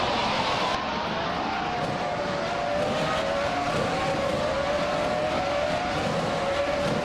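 A 1996 Benetton B96 Formula One car in a racing video game: a steady, loud, high-pitched engine whine that climbs gradually in pitch, close and continuous with no talking.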